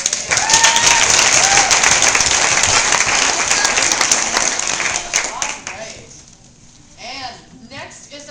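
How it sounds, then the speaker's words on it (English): Loud, dense audience applause at an awards presentation keeps up for about five seconds, then tapers off into a quieter room with a voice speaking. "so round of applause for them"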